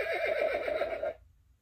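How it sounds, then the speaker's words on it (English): A single loud horse neigh from an Usborne Noisy Farm interactive children's sound book, a shrill quavering whinny lasting about a second before cutting off into silence. "The horse says,"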